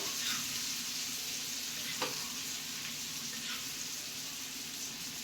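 Fish coated in masala fry on a hot tawa with oil, giving a steady, fairly quiet crackling sizzle and a couple of light clicks from stirring or turning.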